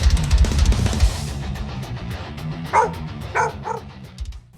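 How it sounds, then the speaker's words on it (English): A dog barks two or three times, fairly close and clear, after a loud low rumbling start that fades out. "I genuinely thought it was one of your dogs that started barking at the front."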